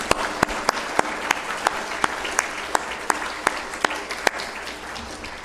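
Light, sparse applause at a conference for the speaker Rob, with a few distinct claps standing out at an even rhythm over a soft, continuous patter from the audience.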